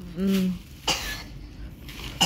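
A couple of short, sharp coughs from a nearby person, separated by brief pauses, with a bit of voice at the start.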